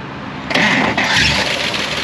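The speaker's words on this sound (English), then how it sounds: "Let's see if the engine fires." A 1956 Chrysler Windsor wagon's 354 HEMI V8 cranks briefly and then fires, its noise jumping up about halfway and settling into a steady, fairly loud running sound, with no voices.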